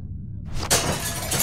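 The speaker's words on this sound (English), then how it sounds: "use the bat to shatter that window so you can reach in" Window glass smashed with a bat in a zombie survival video game: a sharp shattering crash after a quiet start, followed by a bright spray of breaking shards, loud and close.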